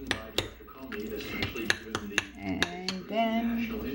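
A spoon scrapes and clinks against a bowl while chilled cooked oatmeal is stirred, producing a series of sharp, close taps at an irregular rhythm over soft mushy scraping.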